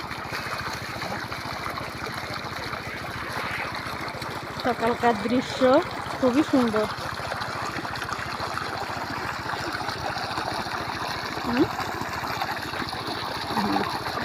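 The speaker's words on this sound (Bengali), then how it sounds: "মরিচের গাছে পানি দেওয়া হচ্ছে।" Water from a shallow tube-well pump flows steadily onto chilli plants, a constant rushing stream with an engine throb beneath, while a voice speaks briefly over it.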